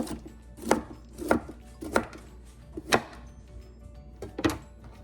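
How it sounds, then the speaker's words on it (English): A knife rough-chopping cauliflower on a cutting board, six sharp distinct thuds at slightly irregular intervals, close and clear with no talking. "You can use your knife if you want, if you don't want your pieces too big. Kind of do a rough chop to them."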